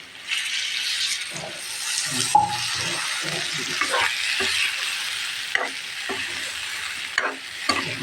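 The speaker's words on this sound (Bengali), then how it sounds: "এখন একটু সামান্য পানি দিয়ে দেবো পানি পানি আধা কাপের মতো পানি দিয়ে দেবো" A splash of water hits a hot pan of pumpkin and potato curry, followed by steady sizzling, scraping and stirring that stay close and fairly loud throughout, with no talking.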